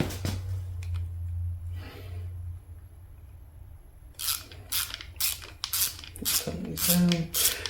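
A ratchet clicks in quick bursts while bolts are tightened on a Fiero V6 engine, close and crisp, with a few pauses between the runs of clicks.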